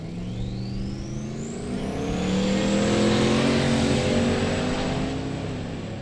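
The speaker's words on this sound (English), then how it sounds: "Alberto Fernandez going down the right-hand side in the turbocharged Suburban." A turbocharged Chevrolet Suburban accelerates hard down a drag strip at a race event, its engine note rising in pitch as it pulls away. The roar stays loud and steady throughout, with the pitch climbing continuously.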